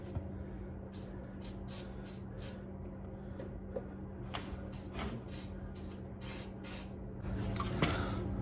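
Lubricant sprayed onto the front brake bolts of a 2015 Ford Edge, short hissing bursts repeating over a steady low hum in a garage, the spray getting a little louder toward the end.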